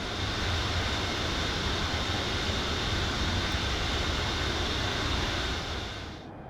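In the MSFS2024 flight simulator, a Boeing 707's jet engines roar in a steady, loud, broadband drone as the airliner climbs after takeoff, holding constant for several seconds before easing off slightly at the end, with no talk.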